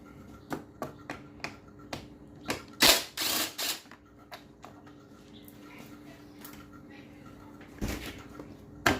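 A ratchet wrench works on the shroud covers of a Honda XR150L motorcycle, giving a series of sharp, close clicks in short bursts with quiet gaps between them.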